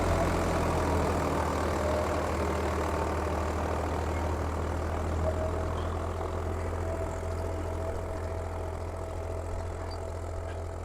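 A Swaraj 855 tractor engine runs steadily in a field, a continuous low diesel drone with a constant hum, fairly loud and close, alone without talk throughout.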